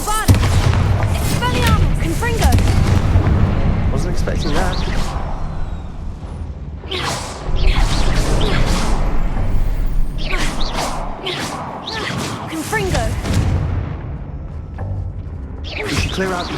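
Spell blasts from Bombarda and Confringo in the Hogwarts Legacy video game, booming explosive bursts and whooshes going off repeatedly amid dense game sound, with a voice speaking over them.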